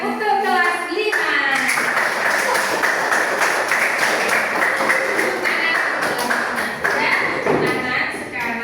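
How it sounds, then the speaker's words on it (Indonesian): A class of children in an Indonesian classroom claps together for a fifth-grade class, loud rhythmic group clapping mixed with children's voices and an adult talking over it. "tepuk tangan untuk kelas 5."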